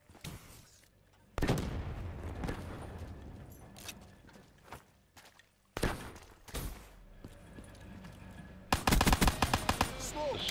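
Pistol shots in Black Ops 3 multiplayer, sharp cracks fired in several separate volleys with a rapid burst near the end, over continuous game background noise.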